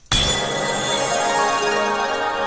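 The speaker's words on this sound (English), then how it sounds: "Now let's import the original heal spell sound." The Clash of Clans heal spell sound effect rings out as a bright, shimmering magical swell that starts abruptly after a brief gap and sustains evenly, loud and close with no voices.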